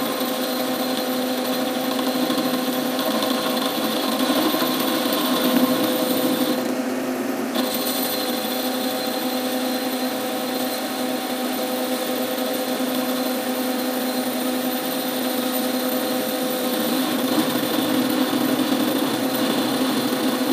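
A metal lathe turning a steel clutch hub at 420 RPM with a DNMG insert under hand feed gives a steady, loud machine drone with a high whining cutting tone that runs unbroken throughout.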